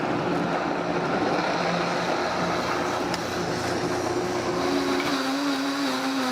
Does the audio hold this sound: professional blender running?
yes